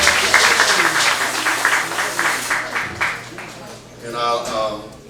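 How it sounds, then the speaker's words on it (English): Audience applause at a Kwanzaa Imani Night program, a burst of crowd clapping that fades over a few seconds, mixed with voices and cheering from the room. "Round of applause."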